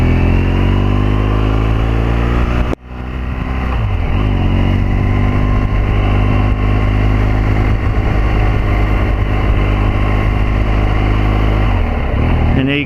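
A 2014 BMW R1200GS Adventure motorcycle engine idles loudly up close, cuts briefly, then pulls away with a steady droning rise in revs that holds strong to the end, with no one speaking over it.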